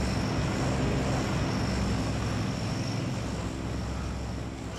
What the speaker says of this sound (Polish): Oho, samolot.